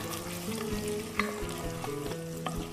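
Garlic and a bay leaf sizzle in melted butter in a pan for Hünkar soup, a steady close frying hiss with a few sharp crackles, set against faint sustained tones.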